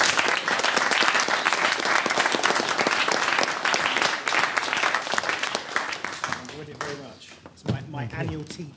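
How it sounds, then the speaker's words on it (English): Sustained audience applause for a guest speaker after a talk on contracts, dense clapping that fades toward the end as voices begin talking over the thinning claps. "Big round of applause for Matt."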